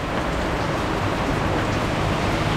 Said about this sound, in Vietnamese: giờ mưa quá trời luôn